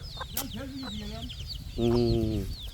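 Several chickens cluck and squawk close by at a village market in Pabna, Bangladesh, one drawn-out call near the end, with a busy crowd murmuring in the background.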